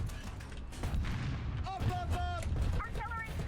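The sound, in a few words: artillery strike explosions in a video game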